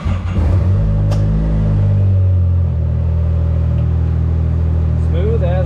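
A Can-Am Maverick R side-by-side running E85 fuel fires up with a loud rumble and a quick rev, then settles into a steady, smooth idle with a faint whine, close to the listener.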